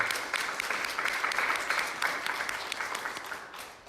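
A church congregation claps during a Sunday morning service, with sustained crowd applause that carries on evenly and then fades slightly near the end, and no talk over it.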